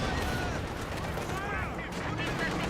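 Dense gunfire from a Company of Heroes 2 battle, with infantry flanking fire amid tanks such as T-34s and an IS-2, rattles continuously and loudly under a busy mix of battle noise.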